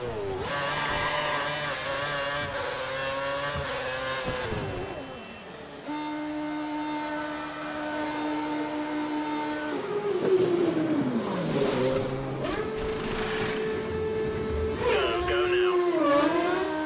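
Formula 1 car engine in the F1 video game at Australia, holding steady high-pitched revs that drop, shift and rise again, with several engine tones layered over a continuous roar.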